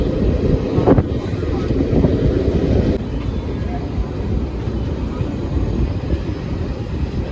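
Fazilka–Delhi Intercity Express passenger train running on the main line near Gannaur, with a steady loud rumble of wheels and carriage throughout and faint voices in the background.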